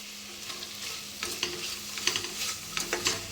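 Vegetables and masala stirred and sautéed in a pan, a soft frying sizzle with scattered scraping strokes of the spoon that grow more frequent and pronounced in the second half, close and moderately quiet.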